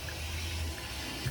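Engine oil trickles and drips steadily out of a Porsche 911 oil system during an engine drop, a continuous close liquid splatter with a low gurgling undertone and no voices.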